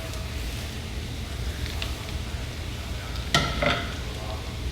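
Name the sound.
garlic and basil sauteing in a pan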